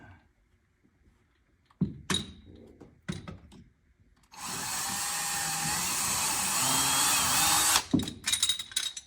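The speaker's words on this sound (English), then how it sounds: "This carpet's a pain in the ass to drill through." A few clunks and knocks, then a power drill whines steadily through carpet for several seconds nearby before stopping, followed by more handling noises.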